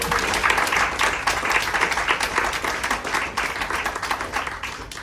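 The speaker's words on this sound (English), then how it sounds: "give yourselves a round of applause." Audience applause at a chamber concert, a dense wash of many hands clapping steadily and loudly throughout, no voices over it.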